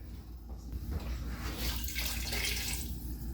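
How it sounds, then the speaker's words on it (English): Water runs into a soup pot for butternut squash soup, a steady splashing pour that swells louder and brighter as it continues, heard close with no talking. "I'm going to add some water"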